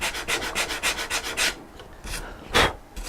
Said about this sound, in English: Getting my sandpaper wore out by doing all this sanding on the fiberglass.